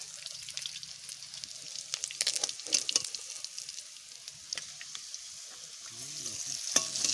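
Tuna fish frying in hot oil, a continuous close crackling sizzle with bursts of spatter that swell and fade over several seconds, with no voices.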